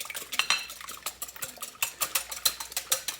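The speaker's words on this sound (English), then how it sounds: "whip my eggs" Quick rhythmic clicking of a whisk against a bowl as eggs are beaten, a steady run of light metallic taps.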